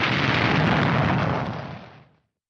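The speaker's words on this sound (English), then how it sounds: "the mortar crew fires straight at Germans they can see, but overshoot the oncoming MMG team" A mortar blast in a cinematic WWII battle scene: a loud, close, broad roaring explosion that holds for over a second and then fades out.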